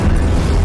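A short, loud, roaring blast of the Incendio fire spell in Hogwarts Legacy, a dense burst of flame that fills the whole moment.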